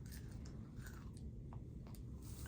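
Crunchy chewing and biting on a sandwich stuffed with potato chips, close to the mouth, with several soft crackly bites over low background rumble.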